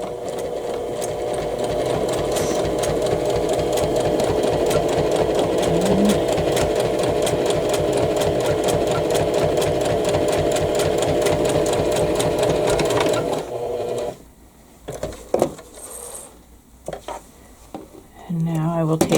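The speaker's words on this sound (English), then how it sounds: "I'm going to sew on that line right there" A sewing machine stitches a Cathedral Window quilt block in one long, loud, continuous run along a marked line, then stops abruptly, leaving a few soft handling clicks and bumps.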